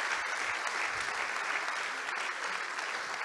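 A conference audience applauds its university organisers with steady, continuous clapping, fairly quiet and distant, many hands at once.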